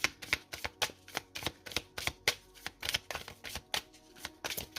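Tarot cards shuffled in the hands, heard as a rapid rhythmic series of crisp slaps and riffles, about three per second, close and fairly quiet, with no voices.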